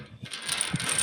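A metal gate latch clicks and rattles open in a quick burst of mechanical clinks and scrapes, close by and fairly loud, with no talking.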